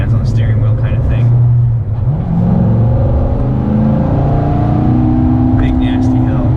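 McLaren 570S with automatic gearbox accelerating up a steep hill, its engine note rising and shifting in pitch as a close, loud drone, with someone talking over it.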